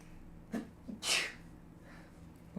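A single sharp, close sneeze bursts out after a couple of short breathy intakes, set against a quiet room with a low steady hum.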